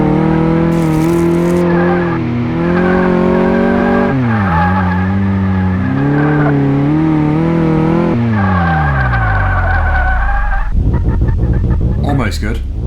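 A car in Car Mechanic Simulator 2018 runs a braking test: a sustained engine drone rises and drops in pitch several times, then ends in a harsh, noisy stop near the end.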